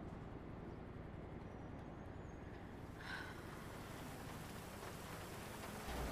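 Steady rain in a video game roleplay, a constant even hiss of falling water that fills the whole stretch with no voices over it.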